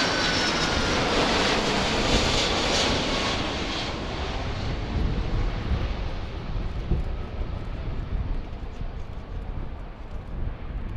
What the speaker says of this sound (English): That's the UPS 767.